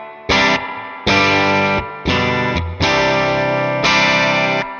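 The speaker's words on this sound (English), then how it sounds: "So here's the reverb up at almost 3 o'clock." Electric guitar through a Fender Super Sonic 22 head with spring reverb set near 3 o'clock: five strummed chords in a loose rhythm, each ringing with a wet, splashy tail, loud and alone.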